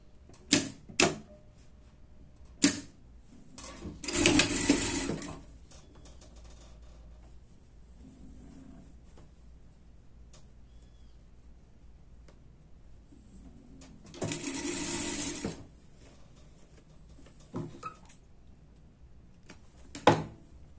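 A sewing machine stitching a seam under the shoulder of a themed party dress, running in two short bursts separated by quiet stretches with scattered clicks and handling taps.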